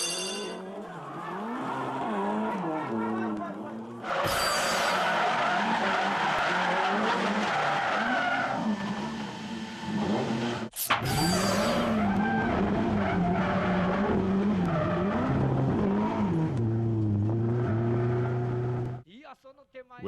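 Drift cars at a D1SL competition round at Ebisu skid with long tire squeals and revving engines, one car spinning out, loud and continuous with a brief break midway and a commentator talking over it.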